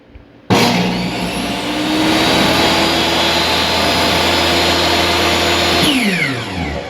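An old table saw switches on and runs loud and steady at full speed, a constant whining drone with a hum underneath, then spins down at the end; no voices.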